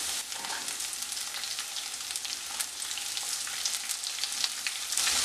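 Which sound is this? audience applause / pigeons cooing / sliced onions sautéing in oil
sliced onions sautéing in oil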